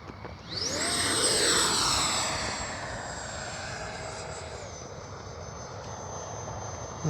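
A Freewing 80mm L-39 RC jet flies in to land, its high, whining ducted-fan roar swelling as it passes close and then settling into a steady, slightly falling drone as it moves away.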